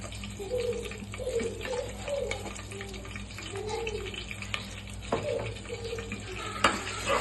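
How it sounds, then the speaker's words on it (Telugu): Turmeric sizzles and crackles softly in hot oil for a mutton curry, with a steady frying hiss, occasional stirring clinks, and a person speaking over it. "నేను ముందుగా ఆయిల్లో పసుపు వేసుకుంటాను."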